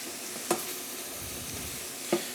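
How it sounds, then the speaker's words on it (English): Mushrooms sautéing in a hot pan at high heat, a low steady sizzle broken by two sharp utensil clinks against the pan, close and alone. "he's doing it at a hotter temperature. But at home, please saute the mushrooms at low to medium heat"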